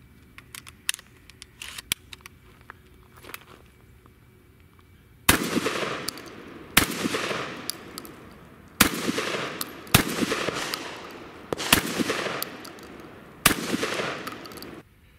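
A Remington V3 Tac-13 shotgun fires Federal 7.5 birdshot outdoors at a target about 12 yards away, with six loud, sharp blasts spaced irregularly a second or two apart, each trailing a short ringing decay, after quieter handling clicks.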